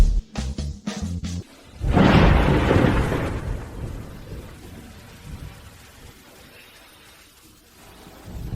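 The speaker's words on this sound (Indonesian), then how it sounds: "Hujan ini semakin deras, semakin baik." A sharp burst of thunder rumbles loudly after a few brief cracks, then fades into a steady wash of heavy rain that continues alone.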